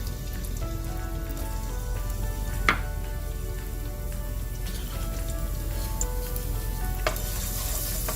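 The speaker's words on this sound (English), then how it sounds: "I'm going to start with sauteing the garlic and the onions. So in goes the garlic." Garlic sizzles and fries steadily in a hot pan on low flame, a continuous crackling hiss with a couple of sharp pops and light clinks, no talking.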